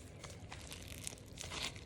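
Bluish-teal slime pressed and squeezed by hand, giving close, dense crackling crunches that run steadily through the short stretch, with a few sharper pops near the end.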